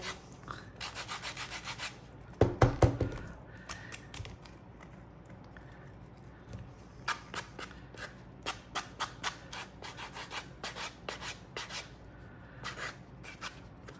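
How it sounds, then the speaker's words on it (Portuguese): Sandpaper rubs the trimmed edges of a small handmade shoe in irregular short scraping strokes, with a brief louder burst of rubbing early on, then spaced repeated passes, close and without talk. "Também manter a lixa assim reta"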